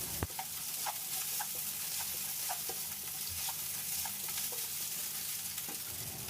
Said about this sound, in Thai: จากนั้นเราก็ผัดให้ไข่สุกนะครับ